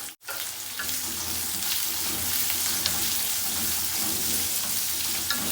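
Sliced onions fry in a pan on low heat with asafoetida, a steady, loud, dense sizzle running throughout after a brief dropout at the start, with no talking.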